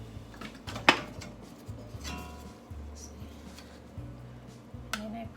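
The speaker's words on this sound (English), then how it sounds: "Going to stir and pan fry my chili paste first." Chili paste for a beef panang curry is stirred in a pan, with a sharp utensil tap against the pan, light clinks and scrapes, and a faint low sizzle underneath.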